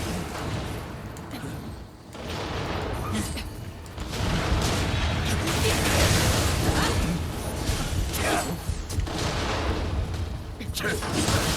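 Mortar fire in the video game Nioh 2, a dense run of booming blasts and rumbling impacts that rolls on almost without pause, loud and close, with a player's voice talking over parts of it.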